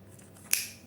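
A single quick snip of scissors cutting into a plastic water gallon while a hydroponic tomato planter is being made, a short crisp close cut over a quiet background.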